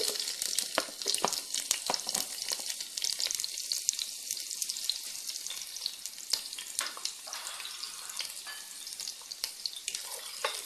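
Onions fry in a spoonful of oil for a Ugandan-style sausage sauce, a continuous close sizzle with frequent crackles and occasional stirring scrapes, with no one talking.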